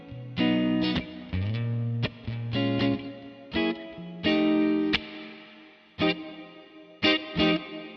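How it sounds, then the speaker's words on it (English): An electric guitar played through a DIY Flick reverb/trem/delay pedal sounds short chords and notes, each stopping abruptly, with reverb tails trailing briefly after some of them. "the reverb you're going to hear processed in both left and right, but the dry signal is only going to be on the left"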